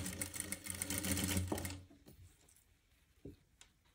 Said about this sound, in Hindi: इस पर सिलाई और लगा लूँ, आड़े तक लगाऊंगी सिलाई।